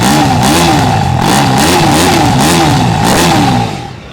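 A TVS Apache RTR 310 motorcycle exhaust roars loudly and close, its revs wobbling up and down in a steady run before the sound cuts away.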